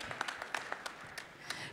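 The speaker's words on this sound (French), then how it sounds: "On peut vous applaudir" Sparse, scattered claps from a small group, a handful of distinct hand claps spread unevenly over a brief moment.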